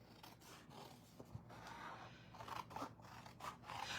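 Scissors trim the flap of a paper gift bag in a quiet, close series of crisp snips and crunching cuts, with small scraping sounds between them.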